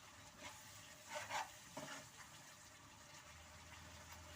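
Paneer gravy masala fries in oil in a pan with a faint, steady sizzle, broken by soft stirring scrapes near the start, quiet and continuous with no speech.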